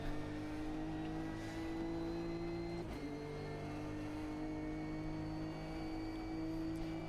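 A race car engine in the Automobilista 2 racing game holds a steady droning tone, then briefly blips as it downshifts partway through before settling back into a sustained, even engine hum, with no talking.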